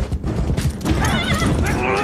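A horse neighs during a Game of Thrones battle scene, a loud whinny rising out of dense clattering commotion with hoofbeats and mixed noise, while a voice speaks over it.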